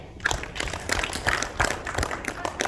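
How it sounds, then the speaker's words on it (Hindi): An audience at a business team meeting claps in uneven, moderately quiet bursts, with a few voices murmuring underneath. "उत्तर जी के लिए भी तालियां हो जाए."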